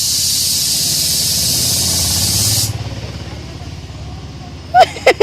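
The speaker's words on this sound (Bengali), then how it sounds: "সিটি পড়েছে প্রেসার কুকারে সিটি" A pressure cooker lets out a loud, steady hissing whistle that stops abruptly partway through, followed by quieter room sound and a couple of brief, sharp voice bursts near the end.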